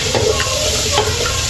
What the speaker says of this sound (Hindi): तकरीबन 4 से 5 मिनट ये गाजर को फ्राई कर लेंगे इसमें।